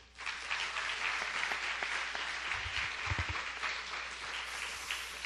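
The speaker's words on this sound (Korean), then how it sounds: "우리 3학년 6반을 위해서 다시 한번 박수." A church congregation at a worship service applauds a third-grade class, a dense, steady wash of clapping that holds evenly for several seconds with a few low thumps mixed in.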